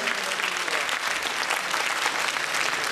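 A stage audience in Georgia applauds as old and new members are called up, steady dense clapping filling the room at full volume for three seconds with no talk.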